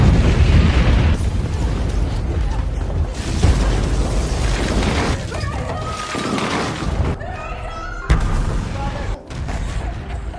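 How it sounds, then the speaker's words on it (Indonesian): Explosions roar as a loud, sustained rumbling blast with crashing debris, set to sirens in a dramatic scene, dense and near throughout with a sharp crack late on. "Ledakan sudah dekat."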